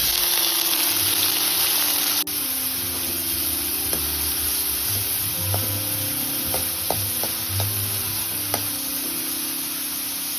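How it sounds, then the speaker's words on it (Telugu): Half a cup of coconut roasts in a spoonful of ghee in a kadai with a steady soft sizzle. A few light clicks of a spoon stirring against the pan come through, and no voices are heard. "ఇప్పుడు కడాయిలో 1 స్పూన్ నెయ్యి వేసి 1 అరకప్పు కొబ్బరిని దోరగా"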